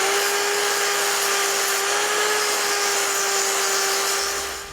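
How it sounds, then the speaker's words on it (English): Handheld belt sander (linisher) grinding deer antler for a thumbstick, a loud continuous abrasive whine with a steady motor tone throughout, close up and alone, easing off at the very end. "It's just a handheld belt sander or a linisher or whatever you want to call it."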